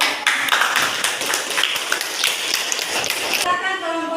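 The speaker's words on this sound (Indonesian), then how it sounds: "Kasih aplaus dulu." Classroom applause for a group's discussion presentation, a dense burst of many hands clapping near and loud for a few seconds before cutting off into a faint voice.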